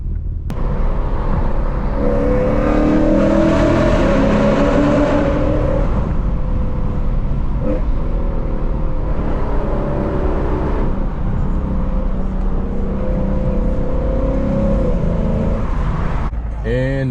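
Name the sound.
car driving off and accelerating in traffic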